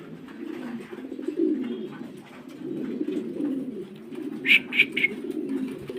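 A pair of jet-black Roman pigeons at a farm in Narail Sadar, Bangladesh, coo in low, steady, rolling calls close by, with a few brief higher chirps toward the end.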